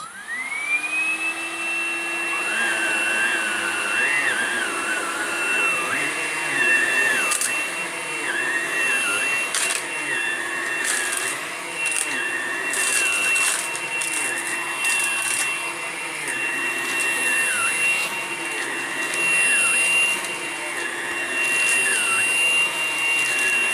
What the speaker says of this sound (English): I'm going to vacuum again with the Hoover blade.